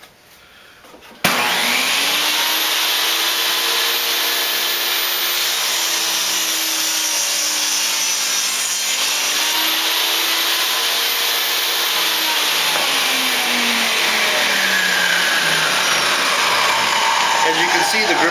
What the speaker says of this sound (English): the gripper allowed me to cut this very thin piece of stock through this table saw with control